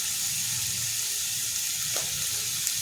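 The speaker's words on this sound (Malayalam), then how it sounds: "ഇതൊന്ന് നന്നായി വഴറ്റിയെടുക്കാം" Small onions salted and sautéing in a pan for chicken chinthamani make a steady, close hiss of frying, with faint low stirring and one brief scrape, and nobody speaks.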